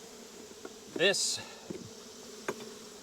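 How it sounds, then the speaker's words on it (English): Honeybees buzz around an open beehive during smoking and equalizing, a soft close drone with one louder pass of a bee near the microphone, while someone speaks briefly. "We're going to smoke these bees and we're going to start the equalizing."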